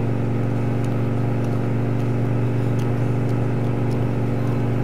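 A steady, droning aircraft engine holds full throttle in Microsoft Flight, an even, unbroken hum with no voices over it.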